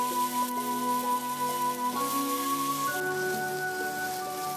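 Brie cheese sizzles in a preheated hot frying pan with a steady, crackling patter like light rain, moderately quiet and continuous, with faint tonal hums running underneath and no talking.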